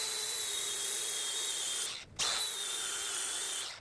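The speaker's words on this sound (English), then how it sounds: "Go ahead and get this paint ground off of here and we'll get this thing welded on." A power grinder strips paint and mill scale from steel with a steady high whine, briefly cutting out in the middle before spinning back up, close and continuous.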